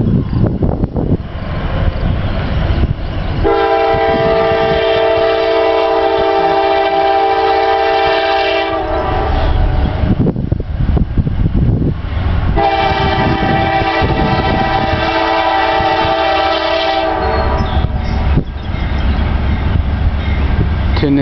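A Norfolk Southern train rolls past on mainline track with rumbling wheels and two long, loud horn blasts sounding close by.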